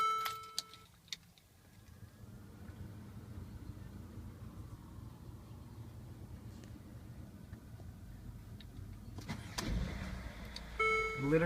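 A 2013 Mercedes ML350 4MATIC engine cranks and catches almost instantly, then settles into a steady low idle rumble heard from inside the cabin, with a few faint ticks and clicks around it.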